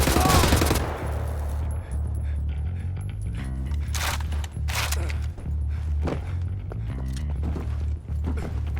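Sustained machine gun fire rattles continuously during a firefight in the video game Wolfenstein: The New Order, loud and close, with bursts of other gunshots and explosions layered over a droning engine.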